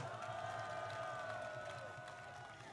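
Crowd at an evening candlelight political rally in Korea claps and cheers for marine veterans, a faint, distant, continuous wash of applause and shouts.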